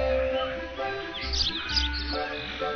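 A Sparrowmint piñata in the video game Viva Piñata chirps in quick bright tweets and twitters over a looping musical backdrop, the calls clustered near the middle and fading out.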